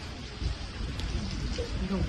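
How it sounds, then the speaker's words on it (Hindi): Heavy rain falls outdoors at Seven Sisters Hill, a dense continuous hiss of drops close to the listener, with voices murmuring faintly underneath throughout. "और इतनी बारिश हो रही है"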